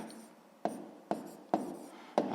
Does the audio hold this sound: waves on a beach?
no